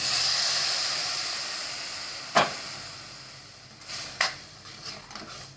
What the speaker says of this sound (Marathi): आपण गरम पाणी ॲड करायचं याच्यामध्ये